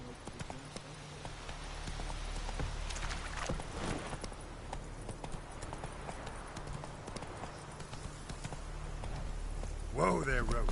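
Geralt's horse Roach in The Witcher 3 video game, rapid rhythmic hoof clip-clops galloping steadily throughout, close and clear, ending with a brief whinny-like voice.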